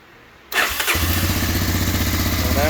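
A 1985 Honda Big Red 250ES three-wheeler with a freshly rebuilt carburetor cranks briefly and fires up, settling into a loud, close, steady idle with a rhythmic single-cylinder putter.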